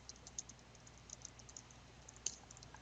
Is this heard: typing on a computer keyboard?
yes